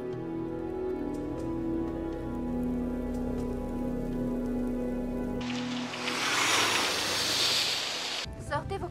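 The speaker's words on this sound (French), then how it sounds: "aujourd'hui comme hier, les précipitations sont abondantes. Il pleut" Heavy rain in the Spirou animated series starts halfway through as a loud, dense, hissing downpour that follows tonal music, then cuts off abruptly near the end.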